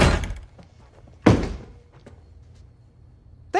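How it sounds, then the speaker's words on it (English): A front door is shut with a solid thud at the start, then a second heavier thump about a second later, followed by faint knocks and a short sharp sound at the end, indoors and close. "Shut the front door."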